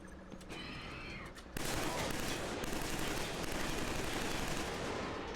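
Sustained heavy gunfire from the Killzone 3 Icy Incursion level, a lighter burst at first, then a loud, dense, continuous barrage from about a second and a half onward with no voices.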